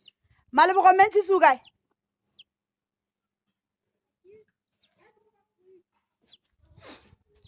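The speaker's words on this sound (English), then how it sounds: "They are naughty, these chickens. You see that they are coming out from the house." Chickens cluck loudly and close by near a rural house in Taung, a short burst of bird calls followed by a few faint, scattered sounds and a brief distant call.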